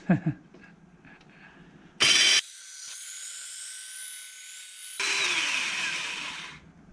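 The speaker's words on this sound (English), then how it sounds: "I love that bandsaw. That's one of my favorite tools." A bandsaw cutting in a garage workshop during transmission crossmember fabrication: a steady high whining buzz that starts abruptly, holds for about three seconds, shifts in tone and continues before stopping, loud and close.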